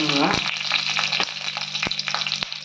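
Mustard seeds dropped into hot oil for coriander rice, a sharp sizzle burst followed by crackling pops and a few distinct spattering clicks.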